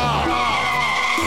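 A man imitates a car engine starting with his voice, a continuous strained tonal rasp with a shifting pitch, loud and close.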